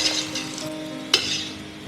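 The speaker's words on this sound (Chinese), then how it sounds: "你看现在我放上有没有声音？ 滋滋响，是吧？" Hot oil sizzles softly and steadily under fried, coated tofu with the heat switched off, with a single sharp clink of a utensil partway through; no talking.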